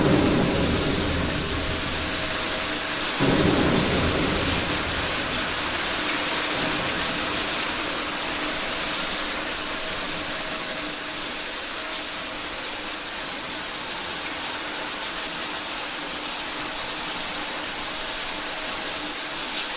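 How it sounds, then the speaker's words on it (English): Shower water running in The Town of Light: a dense, steady hiss of spraying water that swells after a low thud near the start and continues loud and unbroken. "Let's turn the water on now,"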